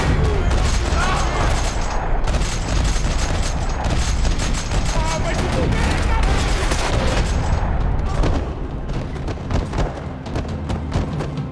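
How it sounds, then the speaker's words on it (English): Dense gunfire rattles through a parking lot in the video game Max Payne 3: loud, rapid bursts of shots and booming impacts overlap nonstop, easing slightly toward the end, with a voice occasionally heard underneath. "Another parking lot rattling with gunfire"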